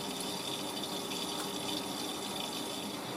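A Miele W562 washing machine fills with water for its rinse, a steady hiss and gush of inflowing water that continues evenly at a moderate level without talk.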